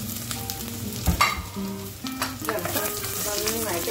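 Sliced onion and torn curry leaves fry in hot oil for a prawn mappas, a close, busy sizzle with a sharp crackle burst near the start, plus some faint tonal background sounds.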